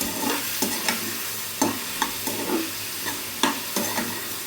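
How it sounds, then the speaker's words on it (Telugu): A Rayalaseema-style okra (bendakai) curry mixture is stirred steadily in a pan, with a soft sizzle underneath and a series of distinct scraping strokes about every half second to second, close and clear with no talking. "బాగా అన్నీ నీట్గా గంట తీసుకొని బాగా నీట్గా కలిపెట్టండి."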